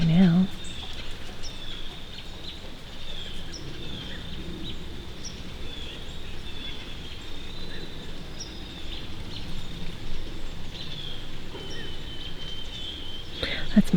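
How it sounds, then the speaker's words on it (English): Various birds, including a white-throated sparrow, sing and chirp in woodland, a steady mix of distant calls with insect-like buzzing over outdoor ambience, and a person talking faintly at moments. "I hear a lot of different birds back there right now."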